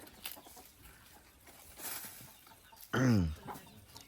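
A chicken lets out one loud, close squawking cluck near the end, after softer scattered clucks and faint farmyard noise.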